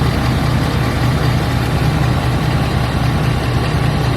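A Ford 6.7L Powerstroke diesel V8 in a pickup truck idles steadily after starting, a continuous low clattering rumble heard up close with no talking.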